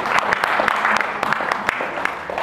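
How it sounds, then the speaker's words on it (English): Applause from a crowd at an outdoor Tea Party picnic, with sharp individual claps standing out over a moderately loud, continuous patter. "I want a round of applause"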